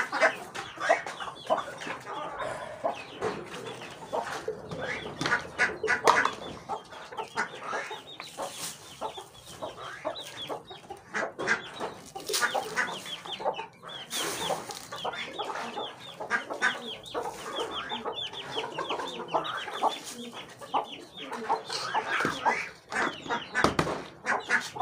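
Chickens cluck steadily and close by while pecking at scattered grain, with a busy mix of hen calls and short rooster-like squawks throughout and no talking.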